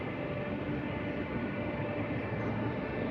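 An MRT train rumbles by in a city, a loud, steady low roar that holds evenly for a few seconds with no voices over it.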